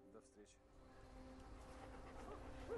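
A dog whimpers and whines faintly in a quiet indoor scene of a melodrama, the thin sounds partly masked by people talking.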